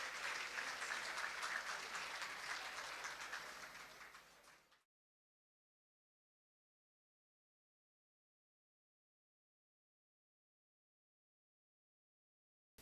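Audience applause fills a gala dinner hall for the We the Italians event, a dense, steady clapping that holds for several seconds, then cuts off abruptly into silence.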